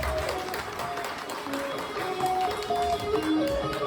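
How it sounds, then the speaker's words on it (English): An audience applauds a volunteer rock band on stage at a campground hypnosis show, a steady wash of clapping with some talk and music-like tones mixed in. "how about a round of applause for our rock band?"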